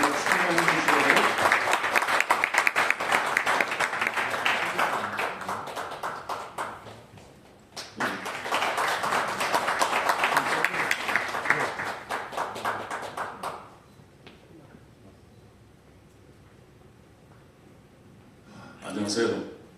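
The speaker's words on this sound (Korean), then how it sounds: "우리 뜨거운 박수로 총회장님 맞이하겠습니다" A church congregation claps warmly to welcome their denomination's general assembly president before his sermon. Two long, loud bursts of dense applause are separated by a brief dip, then fade to near silence with a faint stir at the end.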